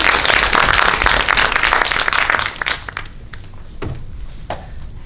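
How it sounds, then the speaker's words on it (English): Applause from the audience at a post-film discussion event, loud and steady for close to three seconds, then fading to a few isolated claps and faint footsteps. "Give a big round of applause for Dave."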